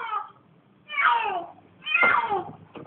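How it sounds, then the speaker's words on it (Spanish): A frightened cat meows twice, each call a loud, drawn-out wail about a second long with a pause between, close by and with no talk over it. "Ahí viene el gato."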